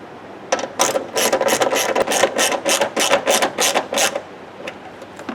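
Rapid run of ratchet clicks from a wrench tightening the mounting of a dual electric radiator fan setup, about a dozen close, crisp bursts in steady rhythm with brief pauses, no talking.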